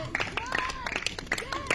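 A congregation at an evening prayer and spiritual warfare service in Grand-Bassam claps in quick, uneven bursts close by, mixed with voices and shouts of acclamation.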